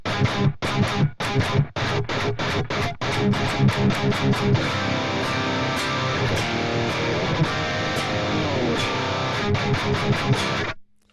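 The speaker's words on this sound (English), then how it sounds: "here's what an overdrive does to that." Electric guitar played through a Precision Drive overdrive pedal stacked after an EVH pedal, giving dense, distorted rhythmic chugs with sharp palm-muted stops and sustained chords, loud and continuous with no talking.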